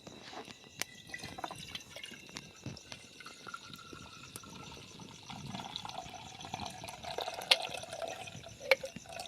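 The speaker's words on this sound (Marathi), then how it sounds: "त्याच्यात हे दूध काढून आणलेलं ते गाळून घेते" Fresh milk being strained into a cooking pot in a home kitchen, giving a soft, steady trickle and drip of liquid with small splashes and clinks, fairly quiet and with no talking.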